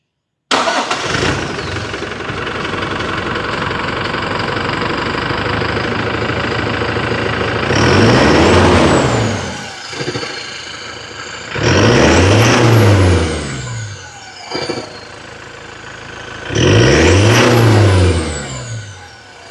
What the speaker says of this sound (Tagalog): We'll start the engine so you can hear the sounds.